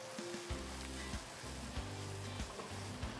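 Masala sauce for a cauliflower pepper fry sizzles steadily in a pan, a continuous close frying hiss with occasional stirring scrapes and no talking.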